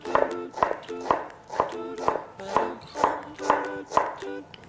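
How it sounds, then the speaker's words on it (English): Knife chopping half an onion finely on a board: a steady rhythm of crisp close thuds, about two per second, repeated in even bursts with no talking. "So you want to chop quite fine this one because you don't want to have like big chunks of onion in your sauce"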